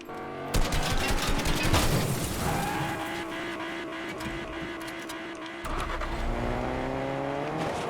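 A car drives in the video game Fortnite, a steady engine drone with shifting pitch under sharp rattling bursts like gunfire, heard moderately loud without talk.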